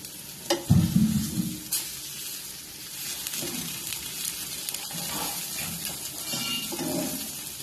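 Masala spices for fish fry sizzle in hot oil, with a loud burst as they hit the pan, then a steady crackle and occasional stirring scrapes.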